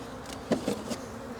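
Honeybees buzz around a hive while a nucleus colony is being installed, a close, steady hum with a few brief louder swells as individual bees pass near.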